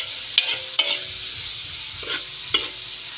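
Carrots and green beans stir-frying in a pan for pancit guisado make a steady close sizzle, broken by a few sharp scrapes and clacks as the utensil stirs them.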